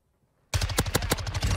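Rapid burst of MX9 submachine gun fire in Call of Duty: Modern Warfare II, several sharp close shots in quick succession cutting in abruptly after near silence and staying loud to the end.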